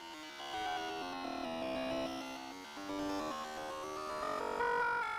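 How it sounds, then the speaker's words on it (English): Kris's cell phone from the Deltarune dark world gives a harsh, dial-up-handshake-like electronic warble, with wavering tones over static noise that shift in pitch for about five seconds, fairly quiet and with no voices. "This is the sound of Kris's cell phone in the dark world."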